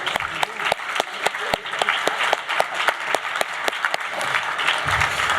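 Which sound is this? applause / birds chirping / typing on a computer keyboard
applause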